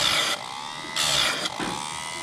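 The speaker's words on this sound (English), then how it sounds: "Little grinder that works pretty good." An Oregon chain grinder sharpening a chainsaw chain hums steadily at close range, with two brief, harsher grinding bursts as the wheel meets the cutter teeth, no voices.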